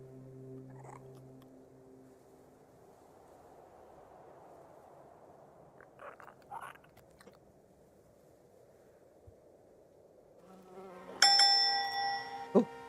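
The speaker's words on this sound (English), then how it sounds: "I heard a bee buzz" A faint, steady insect buzz drones at low level for several seconds in Tainted Grail: Fall of Avalon, followed by a brighter chiming bell-like tone near the end.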